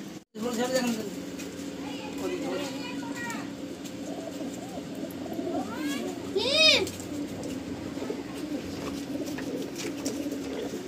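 Kalanka pigeons coo and call in short rising bursts, fairly close, over a soft background murmur of distant voices.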